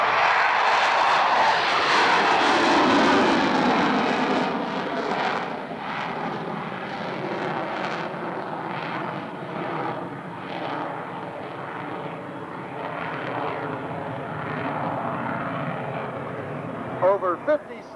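Grumman F-14B Tomcat jet fighter flying at an airshow over Erie, a loud broadband engine roar that swells early and then trails off into a steady distant rumble, with a voice talking over it.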